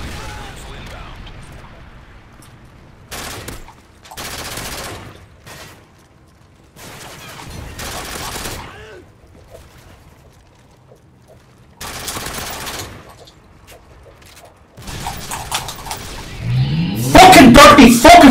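Modern Warfare 3 multiplayer gunfire comes in several loud bursts of rapid shots separated by quieter gaps, with a harsher, denser volley at the end and someone talking over parts of it.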